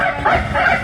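A mimic imitates a Pomeranian's barking with his voice, a short run of quick, high yapping yips, loud and close, performed at a street festival mimicry show.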